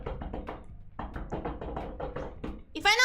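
Knuckles knock repeatedly on a wooden table in quick uneven bursts of dry taps, close and clear, with a short pause midway and a brief voice sound at the end.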